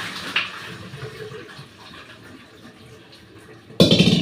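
Hot water from straining paneer poured into a kitchen sink: quiet household background, then a sudden loud, close rush of splashing water at the very end.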